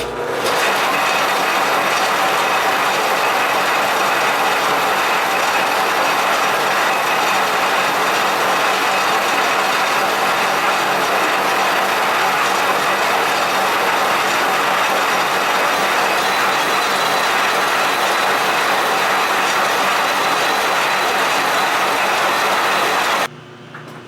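Lathe with a new cutter turning the welded end of a cylinder to dimension, a loud, steady, continuous metallic cutting whine and grind lasting over twenty seconds before stopping abruptly.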